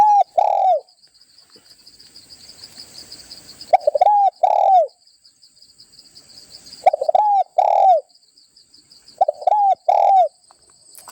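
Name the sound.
dove calls, cooing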